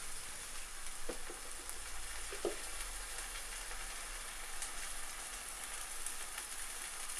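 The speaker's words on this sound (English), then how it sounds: "let it really sizzle so you get that horrible vodka taste evaporate" Vodka sizzling steadily in a hot pan while making a salmon pasta sauce, a continuous broadband crackle that stays even throughout, with a couple of faint clinks near the start.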